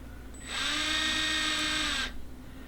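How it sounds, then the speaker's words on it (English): A small drill with a dull bit bores into an NES reproduction circuit board, a steady high-pitched whine that starts abruptly, holds for about a second and a half, then stops. "oh my, that is a dull drill bit."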